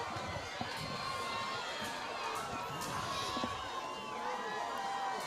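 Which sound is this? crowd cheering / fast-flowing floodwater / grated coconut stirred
crowd cheering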